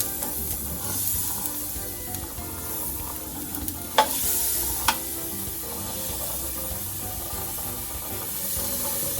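Onion and garlic sauté in margarine in a wok with a steady, close hiss and sizzle, joined by a couple of brief clicks from stirring, with no voices.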